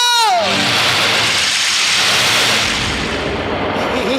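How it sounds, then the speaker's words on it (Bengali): Storm and heavy rain effect in a Bengali devotional stage drama: a dense, loud, steady roar of broadband noise fills the whole stretch, with brief tonal voice-like sweeps at the start and near the end. "কি এত ঝড়, এত বৃষ্টি!"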